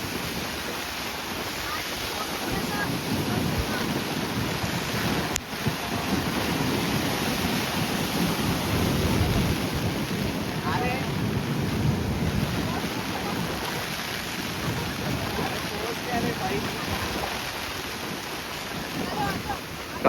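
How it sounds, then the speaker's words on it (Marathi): Sea waves crash continuously onto a beach at Harihareshwar during rain, producing a loud, steady roar of surf and wind noise, with no talk heard. "लाट केवढी उंच येते ती बघा"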